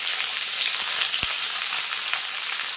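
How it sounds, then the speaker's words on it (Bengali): Chopped onion frying in hot oil with tempered cumin, chilli and bay leaf for a jackfruit chicken curry, a steady loud dense sizzle heard close up without a break, with one faint low knock partway through. "এখন দিয়ে দেবো পেঁয়াজ কুচি,"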